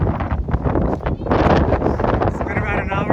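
Strong, gusty wind on the descent from Mount Washington roars and buffets the microphone in a continuous broadband rush, surging louder midway through.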